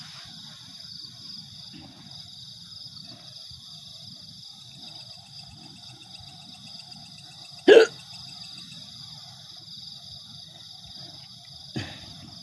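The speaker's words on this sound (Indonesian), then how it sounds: "Maaf agak cegukan ini ya." A person hiccups twice in a quiet outdoor setting with crickets chirping steadily in the background; the first hiccup is sharp and fairly loud, the second fainter about four seconds later.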